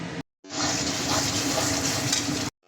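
Tomato, cumin and coriander paste hits a pan of hot spices for a goat meat curry, setting off a loud, steady hiss of sizzling close by, with brief silent cuts before and after.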